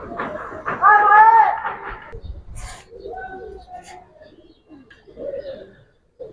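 Giribaz pigeons coo in low, soft rolling calls close by, with a voice talking over and between the cooing.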